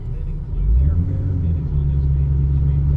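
A 2004 Ford Excursion driving with its four-wheel drive and locking hubs engaged, a loud low engine and drivetrain rumble close inside the cabin that swells as it pulls away, with a voice speaking over it.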